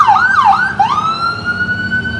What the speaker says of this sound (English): looks like we got an ambulance going on in the background